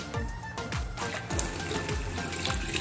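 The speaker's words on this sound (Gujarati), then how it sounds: "હવે એને ધોઈ નાખવાનું છે પાણીમાં" Green black-eyed peas and chopped potatoes are washed in water in a kitchen, with continuous splashing, swishing and dribbling as the vegetables are rinsed and stirred by hand.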